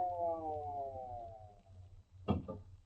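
An ambulance siren wails in a radio drama scene, its descending tones sounding alone before a brief bump near the end.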